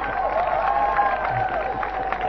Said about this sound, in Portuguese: vais receber uma grande salva de palmas